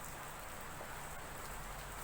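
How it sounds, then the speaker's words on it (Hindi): Heavy rain pours outside in a steady, dense hiss that fills the background without pause. "बारिश हो रहा है तो उसका बैकग्राउंड नॉइज आ रहा होगा बहुत ज्यादा"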